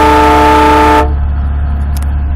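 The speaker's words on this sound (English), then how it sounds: "and the big train horn" One loud, sustained blast of a deep, multi-tone Wolo 847 air train horn on a truck, running at 110 PSI, about a second long, cutting off to a low engine rumble.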